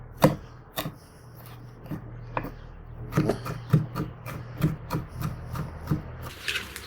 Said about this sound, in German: Also ungefähr 2 Hand voll Bärlauch klein hacken.